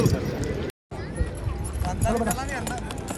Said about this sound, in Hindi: एक बार घोड़ा और चला के दिखाएं हमारे लोगों को